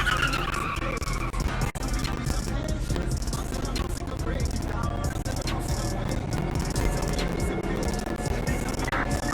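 Tires skid and squeal as a car slides during a pursuit in the Watch Dogs Legion video game, with engine noise, impacts and game voices mixed over the continuous driving sounds.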